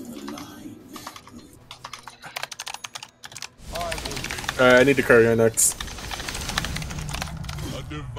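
Rapid keyboard typing clatters close by during a Dota 2 match, scattered clicks mixed with game effects and a voice talking over them.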